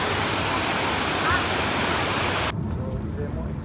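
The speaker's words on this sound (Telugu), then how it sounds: "ఇంత పెద్ద వాటర్ ఫాల్ అసలు ఎక్స్పెక్ట్ లేదు" A dense, steady rush of water from a large roadside waterfall in Sri Lanka roars continuously, loud and close, softening slightly near the end.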